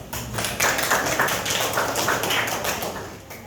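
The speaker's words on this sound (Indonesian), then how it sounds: "Kelompok karena semuanya setuju, kita beri aplaus" A classroom group gives a short burst of applause, a dense run of quick, close claps lasting a few seconds before easing off.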